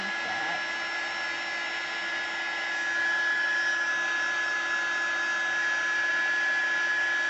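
A heat tool blows steadily to heat and melt material for a floral art piece, a constant close whirring hiss with a high whine that grows slightly louder partway through.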